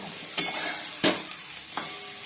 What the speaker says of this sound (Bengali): ফুলকপিটা ভেজে নিয়ে তারপর পনিরটা ভাজবো